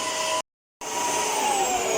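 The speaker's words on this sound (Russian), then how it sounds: "Захожу я, значит, пылесосить" A vacuum cleaner runs steadily and loudly while a home's living room is cleaned. Its broad whooshing drone cuts out completely for a moment, then resumes at full strength.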